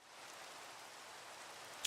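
Steady, even rain hisses throughout in modded Minecraft, a soft continuous wash with no other sounds above it.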